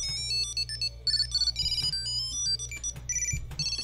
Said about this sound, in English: I did change the ringtone on this.